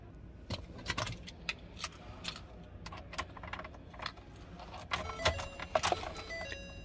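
Keys jangling in bursts as they are pulled from a pocket, with sharp metallic clinks and rattles scattered across several seconds, close up, beside a 2021 Ford F-650 Extreme SuperTruck six-door.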